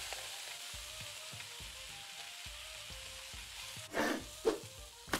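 Food frying in the cooking game Venba on Nintendo Switch, a steady soft sizzle with faint stirring clicks, ending in a few louder bursts of sizzling and scraping.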